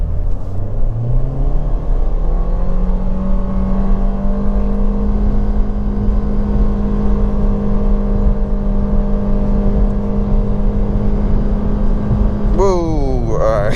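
A car fitted with a Xtronic CVT accelerates hard from a stop, a loud steady engine drone holding one pitch for over ten seconds before a sudden rising shift-like change near the end.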